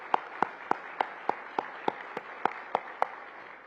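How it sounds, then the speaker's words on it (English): Regular, evenly spaced claps ring out about three times a second in a quiet conference room at a hospitality and tourism summit at the Hilton Orlando at SeaWorld, crisp and close against a hushed background. "Let's give a big round of applause here."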